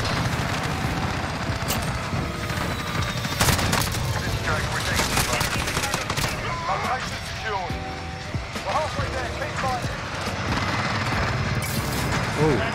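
FAL rifle fire in the video game Modern Warfare, dense and loud shots cutting through a busy mix of game effects while someone talks excitedly over it.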